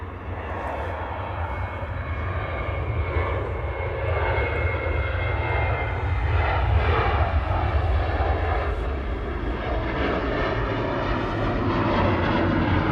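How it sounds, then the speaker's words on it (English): A Ryanair Boeing 737-800 departing runway 23 right at Manchester Airport, a loud, continuous jet engine roar with a deep low rumble that builds slightly across the clip, with no talking. "Ryanair 3222 to Brussels Charleroi departing now"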